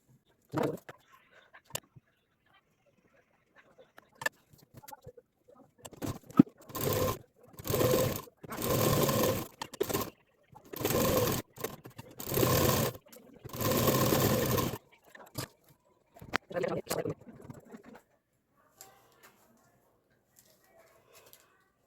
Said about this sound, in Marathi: 3 साईडनी अर्धा इंचाचं मार्जिन ठेवून 3 साईडनी शिलाई मारून घ्यायचे